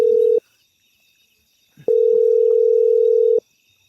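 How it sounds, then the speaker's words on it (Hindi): A steady telephone tone sounds briefly, stops, then returns for a longer stretch of about one and a half seconds, loud and clear with no talking. "एक बार कमेंद्र दरुआ कहाँ फोन लगा के देखो"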